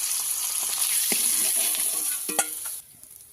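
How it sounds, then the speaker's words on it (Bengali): Mrigal fish from a pond sizzles in hot frying oil, a constant close crackle with a few sharp stirring clinks before the hiss drops away at the end. "মাছগুলো ভালো করে লাল লাল করে ভেজে নেব"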